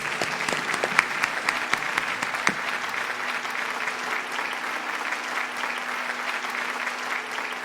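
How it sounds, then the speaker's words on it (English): Sustained audience applause at a Bharatanatyam dance recital, dense steady clapping from a seated crowd with a few sharper claps standing out early. "A big round of applause for Sri Sandeep Iyer."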